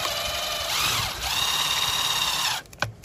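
A power drill drives a screw into cantilever coping on a fiberglass pool, a steady whirring drone with a pitch shift midway that stops abruptly, followed by a brief clunk.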